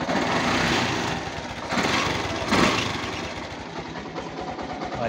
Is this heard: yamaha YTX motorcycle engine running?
yes